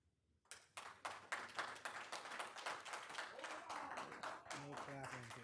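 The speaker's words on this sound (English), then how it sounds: "No clapping, please." An audience at a board of trustees meeting claps after a public comment, starting abruptly and continuing as a steady patter before a voice begins speaking at the end.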